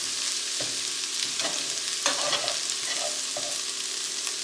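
Garlic and shallots sauté in a pan of butter and olive oil, a steady close sizzle broken by several sharp scrapes and clatters as a utensil stirs them.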